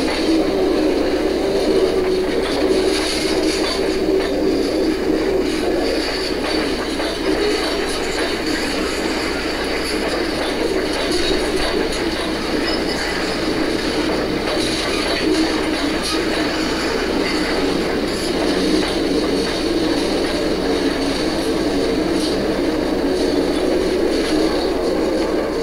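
Bachmann and Athearn model train locomotives working together on a DC layout, slowing as they approach a yard entrance, with a steady mechanical whir and faint rail clatter throughout, close and continuous with no voices.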